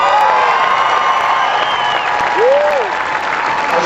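Fans applaud and cheer loudly at a minor-league baseball championship celebration, a dense steady wash of clapping with shouts and whoops rising above it throughout.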